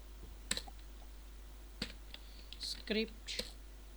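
Computer keyboard typing: a handful of quick, close clicks in irregular bursts over a quiet room, with no one speaking.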